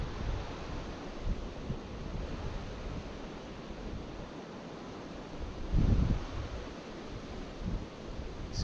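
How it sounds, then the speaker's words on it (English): Wind blows outdoors beside a river during trout fishing, a soft steady rushing noise with a louder gust near the end. "got a little wind going here"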